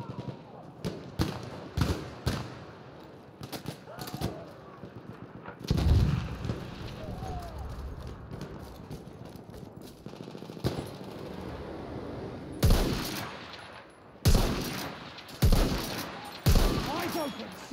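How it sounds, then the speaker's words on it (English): Repeated bursts of machine gun fire from a Battlefield video game, loud and close, in sharp rapid volleys separated by short pauses, with other battle noise and in-game voice callouts in between. "Enemy machine gun!"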